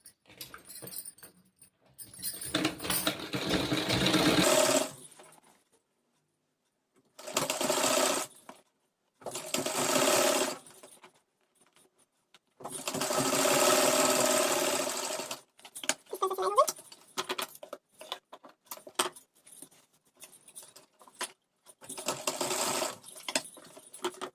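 A sewing machine stitches lace onto a kurti in several loud, close bursts of rapid whirring, separated by pauses filled with small handling clicks and rustles.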